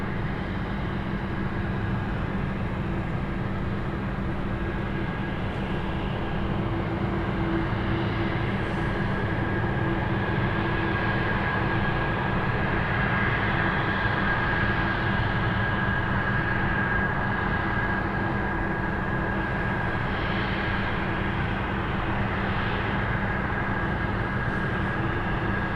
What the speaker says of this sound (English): We'll be here capturing the takeoff